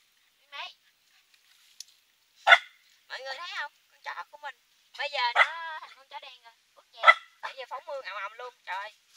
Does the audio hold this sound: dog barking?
yes